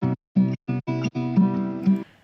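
Chopped guitar in a shed-made music production stops and starts in short, abrupt bursts with gaps between them. The fragments are separated by cuts meant for static, and the last phrase rings on and fades.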